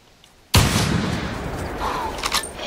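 A single loud rifle shot fired while hunting red deer outdoors: a sharp, sudden crack followed by a long rolling echo that fades slowly over the next two seconds.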